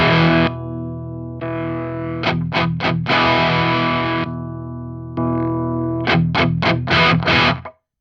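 An electric guitar runs through a Fortin Fourteen overdrive pedal on its modified circuit, producing an aggressive, crunchy tone; sustained chords alternate with fast choppy strums, then cut off abruptly.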